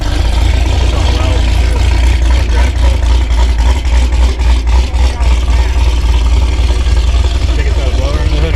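A modified Toyota Prius fitted with a V8 engine runs nearby at a car show, a loud deep rumbling idle with uneven pulsing revs, heard under people talking.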